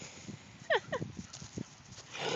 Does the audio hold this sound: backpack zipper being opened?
no